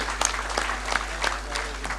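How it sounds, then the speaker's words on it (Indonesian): An audience applauds inventors and innovators at a digital wayang performance, scattered clapping with a few sharper claps over a steady low hum, a voice faintly present. "Tepuk tangan untuk mereka."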